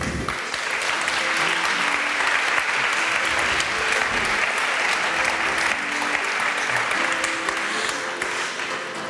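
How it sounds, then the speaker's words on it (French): Strong, continuous applause from a conference audience at a digital industry event, dense and even throughout with a faint crowd murmur beneath. "on vous invite surtout à les applaudir très fortement."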